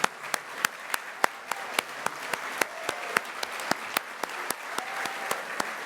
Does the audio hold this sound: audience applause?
yes